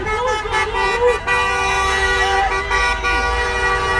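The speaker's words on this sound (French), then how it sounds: "regardez le klaxon général" Car horns blare repeatedly at a motorway toll booth during a yellow vest protest, overlapping long honks near and loud over traffic noise.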